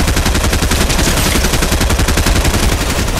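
Rapid automatic gunfire in the video game Fortnite, dense and continuous bursts of shots at close range, loud throughout with no pauses.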